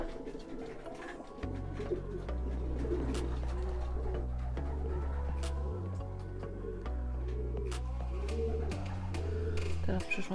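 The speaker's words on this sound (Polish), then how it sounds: "W tej chwili 10. Gołąb usiadł" Racing pigeons cooing at a loft during a competition flight, soft repeated low coos from several birds close by over a humming background, with someone talking at times.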